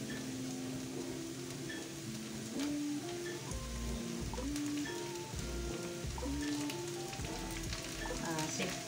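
Bacon frying with softened onion in a pan, a steady broadband sizzle and crackle running throughout, with faint background music tones and no talk.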